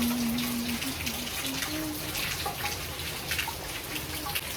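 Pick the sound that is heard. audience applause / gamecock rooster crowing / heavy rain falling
heavy rain falling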